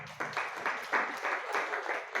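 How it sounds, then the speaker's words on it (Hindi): An audience at a Jain religious sermon by Muni Shri Shuddh Sagar ji Maharaj in Talwandi, Kota, claps together in a steady rhythmic beat, the regular claps fairly close and moderately loud. "देखो तुम लोग ताली बजाना चाहिए।"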